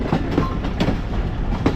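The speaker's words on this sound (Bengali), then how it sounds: "ট্র্যাক চেঞ্জ হচ্ছে, ট্র্যাক।" Rail wheels clatter over joints in an uneven rhythm as a commuter train changes tracks, with a continuous heavy rumble from inside the moving train.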